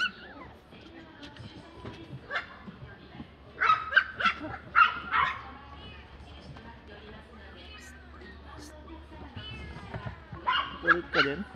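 A small dog gives short, yappy barks and whimpers in bursts, fairly close, with people talking over and between the sounds.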